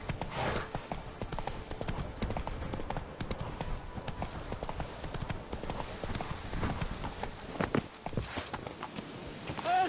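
A horse galloping in The Witcher 3: Blood and Wine, with brisk, continuous clip-clopping hoofbeats at close range, set against in-game ambience.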